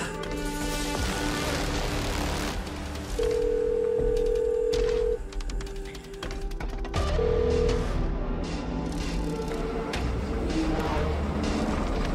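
Telephone tones sound over a busy background: two long ringing tones separated by a pause, as a call is placed and rings out.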